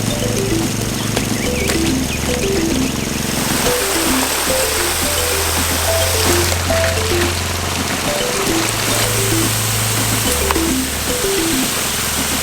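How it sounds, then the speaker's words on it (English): Water gushes steadily from a pump at a gold prospecting site on Reedy Creek, a loud, constant rushing flow that fills the clip, with a low engine drone and faint background chatter. "I'll turn the pump up for you."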